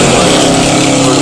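A Plymouth Duster 340 pure stock muscle car with an automatic transmission and a 4-barrel carburetor roars at a 2014 drag race, a loud, steady, dense engine rumble that fills the whole moment with no break.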